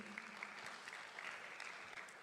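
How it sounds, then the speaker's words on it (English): Audience at the Africa Fintech Summit in Accra applauding at the close of a master class, a soft, steady patter of many hands heard from a distance, faint and even, with no talking. "give yourselves a round of applause once again, ladies and gents"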